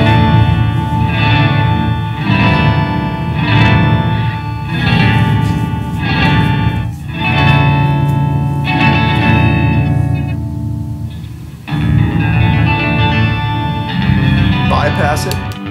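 Electric guitar phrases through a Zoom MS-50G pitch-shifting patch with filter delay sound shimmering, with smeared, echoing filtered repeats, loud and continuous with a short dip near the end.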